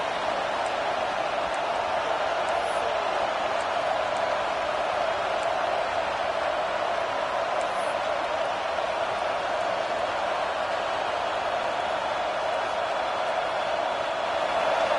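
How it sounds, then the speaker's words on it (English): A steady, dense roar of a large stadium crowd in an American football video game holds at one level throughout, with no breaks or swells. "And here comes the noise. This crowd is trying to inspire this defense to make a big red zone stop."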